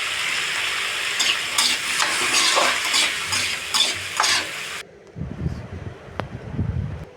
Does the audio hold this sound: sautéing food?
yes